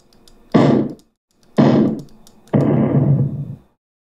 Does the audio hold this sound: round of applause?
no